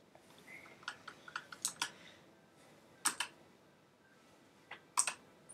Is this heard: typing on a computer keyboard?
yes